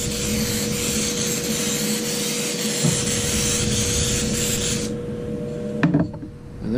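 Silicone release spray hisses out in a steady broadband rush onto a mold plate for spin-cast fishing tackle molds, running for nearly five seconds before cutting off, followed by a few faint handling knocks.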